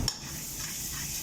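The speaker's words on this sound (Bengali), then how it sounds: "এখন আমরা আদা রসুন দিয়ে দেবো পরিমাণ মতো।" Ginger garlic paste goes into frying onions for Arabic makbuj rice, a quick clink followed by a steady sizzle and stirring, close and brief.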